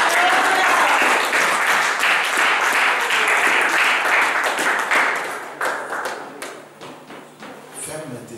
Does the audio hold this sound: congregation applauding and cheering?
yes